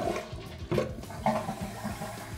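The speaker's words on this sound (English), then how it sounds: "Got a good flush again, and it's coming up." A household toilet with a low tank water level flushes and refills, producing a gurgling rush of draining water followed by irregular bubbling and hissing as the tank fills, moderately loud with no speech.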